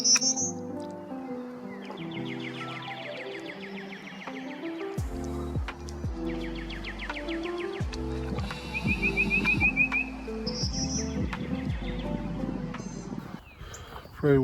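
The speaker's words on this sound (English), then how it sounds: "Prairie warbler, spectacular bird." A prairie warbler gives short buzzy, rising song phrases several times, fairly faint against a background of outdoor noise and knocking sounds.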